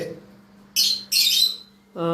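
Pet birds at a bird seller's shop give two sharp, loud squawks close by, followed by a brief lower call, over a faint steady hum.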